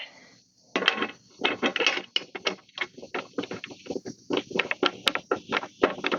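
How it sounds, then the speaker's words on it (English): A 3/8 wrench turning a nut on number 10 aircraft hardware while mounting a hitch ring on a hiker trailer gives a rapid run of close, dry metallic ratchet clicks in uneven bursts, with no talk. "it's a 3/8 wrench on the nut"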